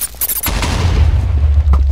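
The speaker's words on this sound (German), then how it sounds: "Alter, alles explodiert." Booming explosions from a Minecraft Rage Mode match: a few sharp bursts early, then a sustained heavy low rumble with crackling debris, loud and close throughout.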